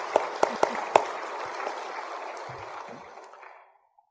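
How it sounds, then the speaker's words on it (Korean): A church congregation breaks into applause after a sermon, a broad wash of clapping opening with a few sharp claps, then fading steadily to silence over about four seconds. "영광의 박수를 하나님께 드립니다"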